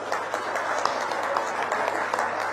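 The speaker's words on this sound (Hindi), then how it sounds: "परामर्शदाता श्री सुश्री क्रिस्टीना आनानीना, एक बार खड़े हो जाइए, ताली बजा दीजिए, देखिए इनके लिए" Audience applause at an official government event in Gairsain, Uttarakhand, with foreign embassy diplomats present; a steady, dense wash of many hands clapping continues throughout, fairly loud and even.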